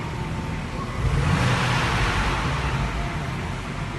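Steady broadband background din in a car dealership service bay where a new Porsche GT4 is being picked up, a continuous roar with a slight swell partway through and no talk.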